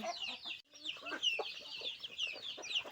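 Chickens cluck in a busy farmyard chorus, overlapping sharp calls and chatter at close range, with a brief pause near the start.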